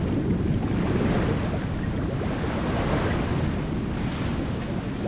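Water churns at the foot of a waterfall on Jeju Island, a loud, steady roar of turbulent water with constant broadband rushing and no pauses or voices.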